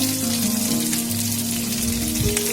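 Chopped vegetables with dried red chillies sautéing over a high flame in a pan for chicken fried noodles, a steady broad sizzle with low hum underneath, continuous throughout and fairly close.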